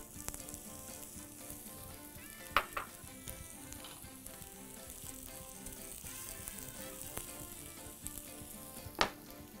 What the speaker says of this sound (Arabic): الاول بنسخن شويه زيت، هنحط فيه البصل